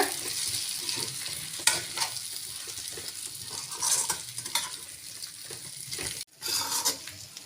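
Boiled potato pieces stirred into a pan for a Tamil-style aloo methi masala, giving a steady sizzle with repeated scraping stirs, close and fairly loud, a brief dropout near the end before the sizzle resumes.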